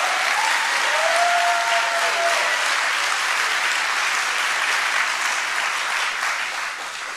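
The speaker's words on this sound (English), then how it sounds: "Clap real loud right now in Jesus' name." A church congregation claps loudly and continuously, a dense roar of applause that tapers slightly at the end.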